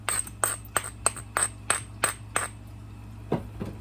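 A stone spall's ridge is ground for flintknapping, about ten sharp, evenly spaced scraping strokes close by, followed by a couple of softer, lower knocks.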